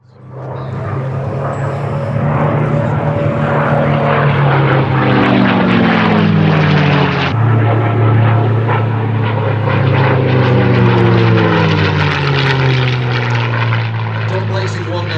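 A propeller aircraft flies over the Sywell Airshow, its loud, steady engine drone rising and falling in pitch as it passes nearby, with a commentator's voice talking over it throughout.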